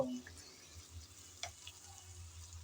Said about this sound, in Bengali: এখন নেড়ে চেড়ে হালকা ব্রাউন কালার করে পেঁয়াজ ভেজে নেব।